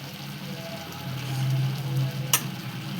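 Two spoonfuls of chutney dropped into hot oil in a pan while cooking sev tameta nu shaak give a steady, close sizzle and crackle that swells in the middle, with one sharp splatter near the end.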